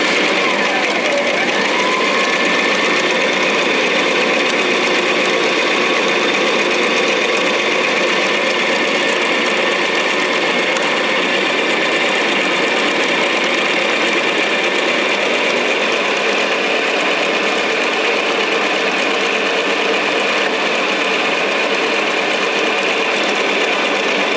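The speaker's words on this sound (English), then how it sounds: "So we're just going to sew. We've got a back stitch here" A sewing machine stitches a skirt seam with a back stitch, running as a loud, continuous, steady mechanical whir from start to finish with no voices over it.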